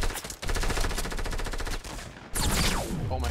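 Rapid automatic gunfire in the Fortnite Battle Royale video game hitting a player, a loud close stream of shots with a brief pause, then a further burst with sliding, whooshing effects.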